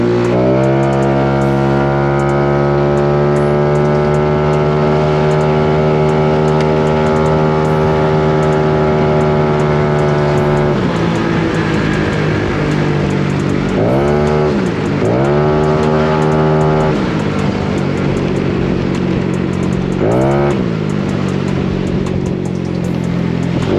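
Yamaha Mio i 160cc scooter with an Aracer RC Mini 5 street tune on a test run: a loud, steady engine drone, then a few sharp revving bursts that climb and fall back, close up with no talking.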